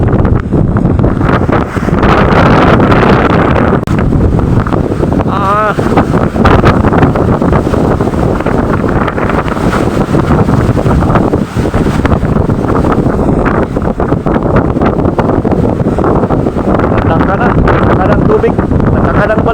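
Strong wind at sea with large waves roars and buffets the microphone continuously for the whole stretch, loud and rumbling, with the wash of water and a voice faintly underneath.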